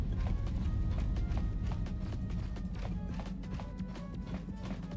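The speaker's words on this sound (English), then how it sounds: "You hear footsteps, but they're coming from the cargo." Footsteps in the Knights of the Old Republic video game, coming from a ship's cargo hold: a quick, rhythmic run of hollow thudding steps, fairly close, alone with no talk.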